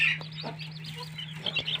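Young chicks peep in a series of short, rising-and-falling calls inside a brooder box warmed by a heat lamp, with a steady low hum running underneath throughout.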